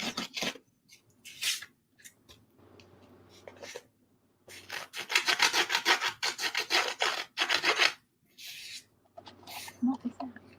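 Rasping, rubbing strokes of edges being distressed on coated book pages during a craft session, coming in bursts with pauses, fairly close, with people talking in between.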